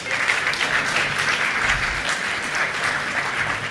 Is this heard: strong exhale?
no